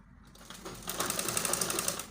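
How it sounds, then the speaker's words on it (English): A sewing machine stitching fabric for a baby girl's gown, starting up and running in a fast even needle rhythm, close and fairly quiet, alone without talk. "Now you have to sew it on top of the fabric."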